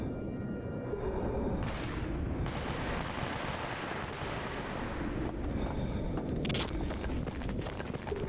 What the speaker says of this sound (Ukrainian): Десь біля воріт заводу стрілянина.